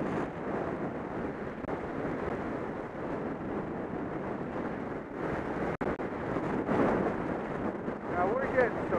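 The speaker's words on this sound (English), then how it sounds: "Now we're getting some huge wind coming at us." Strong wind roars steadily across the microphone on a snowy ski slope, loud and continuous for the whole stretch with gusty surges, a brief dropout near the middle and a voice speaking briefly under it.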